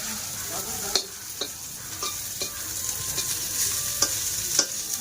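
Local fish with onion fries in a pan, giving a continuous sizzle broken by sharp clinks of a utensil stirring and scraping. The sound is close and fairly loud, with no talking.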